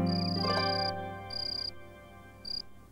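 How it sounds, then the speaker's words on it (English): A cricket chirps in three rhythmic, high-pitched bursts, the first long and the later ones shorter, fairly close and clear. "that's how a cricket makes its chirping sound"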